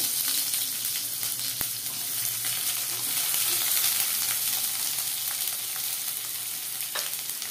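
Continuous hissing sizzle of chopped onion frying in mustard oil, steady and fairly close, with a few faint clinks of stirring.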